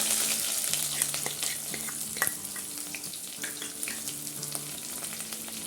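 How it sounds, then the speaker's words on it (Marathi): Onion goes into hot oil already holding popped cumin and mustard seeds for a ridge gourd thecha, making a steady, close frying sizzle with faint scattered crackles and no talking. "आता आपल्याला कांदा टाकायचा आहे"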